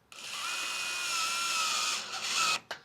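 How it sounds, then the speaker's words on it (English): A power drill or screwdriver drives a nut tight on a firewood storage rack, a steady close whine for about two seconds that rises briefly before stopping. "And then you can take your drill or your screwdriver"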